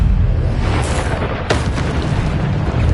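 Bombarda explosion spell cast in the PS5 game Hogwarts Legacy: a loud, deep boom with a sharp burst in the middle, over a rumbling, continuous battle din.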